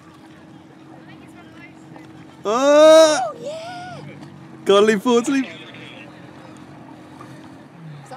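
A 3.5 horsepower outboard engine pushes a homemade hydrofoil boat with no rear foil. Its steady, fairly quiet motor drone runs throughout beneath two short bursts of nearby talk.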